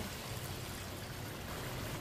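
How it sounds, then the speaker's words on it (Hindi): Water pouring from a cup into a cooking pot of dal, a loud, steady rushing stream with no break, heard close and alone. "अब इसमें 2 प्याली पानी डालेंगे।"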